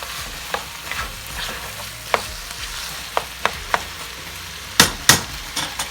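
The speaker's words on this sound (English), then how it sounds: "I mix the meat with the onions. Because it's high heat, the onions immediately will start getting soft." Taco meat and onions stirred in a pan over high heat, with a faint steady sizzle beneath scattered spoon scrapes and a few sharp clinks and knocks, two louder ones near the end.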